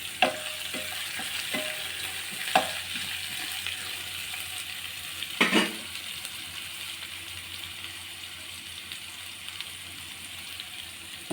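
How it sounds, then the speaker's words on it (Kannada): Chitranna ingredients fry and sizzle in a pan, with a steady bubbling hiss broken by a few sharp scrapes and knocks from stirring. "ಚೆನ್ನಾಗಿ ಫ್ರೈ ಮಾಡಿ."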